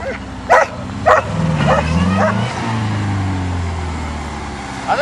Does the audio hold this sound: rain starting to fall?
no